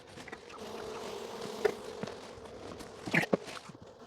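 Honey bees buzz around a hive in a steady, quiet drone, with scattered louder passes close by and a few scuffing handling sounds.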